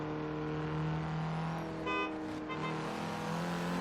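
A Mazda Speed3 engine held at full throttle in Forza Horizon 3, a sustained loud droning rev with a steady tone and a brief gear-change dip partway through, without talk.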